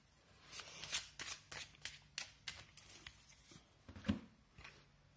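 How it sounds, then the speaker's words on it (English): Crisp riffling snaps as a deck of standard playing cards is shuffled repeatedly up close, a quick irregular series of papery flutters. "this is how it shuffles. It's just your regular playing cards deck."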